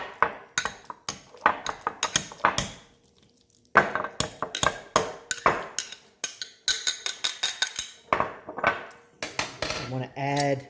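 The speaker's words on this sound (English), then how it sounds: "You could take a potato smasher or a fork, whatever you have handy, and you want to mash that up." A potato smasher or fork mashes avocado for guacamole, giving rapid metallic clinks and taps against the bowl in busy bursts with brief pauses.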